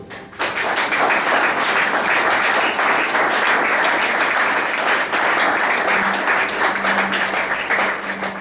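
A church congregation breaks into loud, sustained applause and acclamation, a dense wash of clapping that begins abruptly and holds steady, with voices mixed in.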